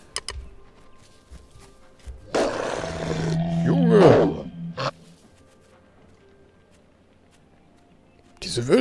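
Wolves in the video game Eco growling and snarling, a rough growl rising over about two seconds after quiet ambience, then fading, with another burst at the end.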